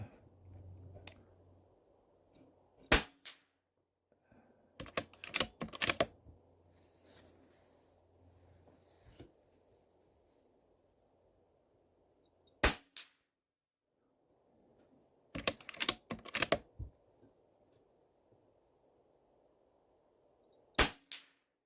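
Stoeger XM1 Scout PCP air rifle fired at painted targets 50 yards away outdoors, sharp loud cracks spaced several seconds apart, some followed by short bursts of clatter, with faint wind between shots.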